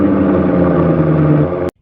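Simulated Maserati engine note from an external car speaker, a loud, steady humming engine tone with a mild rise that runs for under two seconds before stopping sharply.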